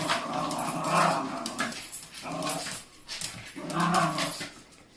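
A dog growls and grumbles in low, rumbling bursts, rising and falling over a few seconds, close by with no talking.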